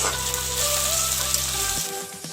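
Chopped onions fry in a pan with bay leaf, a loud, steady sizzle crackling close by on its own before it abruptly drops away near the end.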